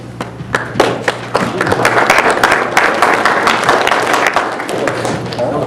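Audience applause at an ATV club meeting for a game warden, a steady patter of many hands clapping indoors that builds after a few scattered claps and holds for several seconds.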